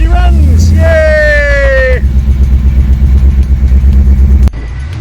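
A rebuilt LSZ engine catches and settles into a steady loud running rumble close by, with people talking and cheering over it at the start.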